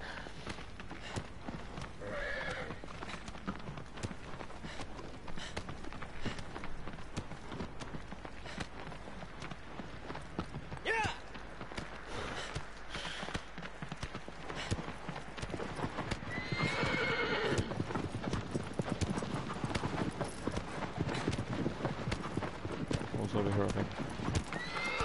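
A horse in the Shadow of the Colossus video game gallops with steady clip-clop hoofbeats and lets out whinnies, with a player talking over the game sound throughout.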